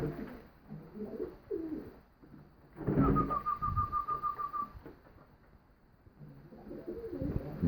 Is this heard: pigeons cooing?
yes